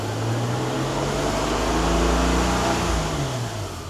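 Toyota Land Cruiser engine idles and then the throttle is blipped, the engine hum rising in pitch and settling back down, steady and close.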